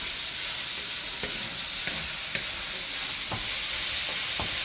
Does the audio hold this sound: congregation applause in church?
no